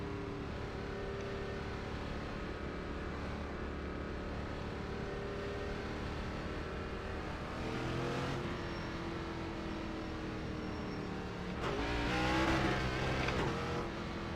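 ARCA stock car engine in iRacing at Homestead, a steady, loud droning roar that holds for several seconds, then climbs in pitch as the revs rise twice, with a brief shift between the pulls.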